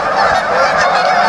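A sick goose on an icy river honks loudly and continuously at close range, a harsh nasal call with no voices.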